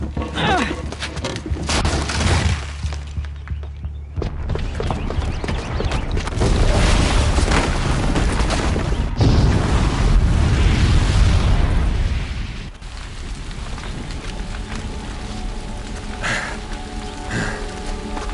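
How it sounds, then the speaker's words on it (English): A booby-trapped bomb goes off in Horizon Zero Dawn during a tense escape, with loud booming blasts and crackling, rumbling debris rolling on for many seconds before it settles into a lower roar. "the booby trap on the bomb downstairs is gonna get set off"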